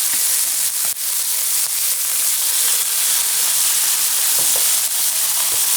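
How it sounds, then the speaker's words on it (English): Steaks sear in shimmering hot oil in a pan, producing a loud, continuous close-up sizzle and hiss with occasional crackling pops throughout. "the oil is shimmering and the pan is nice and hot. Let's put these steaks in to cook. That's what you want to hear."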